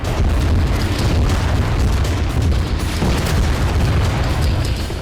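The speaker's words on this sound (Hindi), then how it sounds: "हमास के लड़ाके उस पर इस तरह से रॉकेट बरसा रहे हैं" Rocket fire and explosions in ground combat in Gaza, a dense continuous rumble of booms and blasts with sharp bursts, loud and unbroken.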